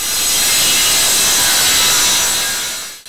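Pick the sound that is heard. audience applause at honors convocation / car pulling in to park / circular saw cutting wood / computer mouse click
circular saw cutting wood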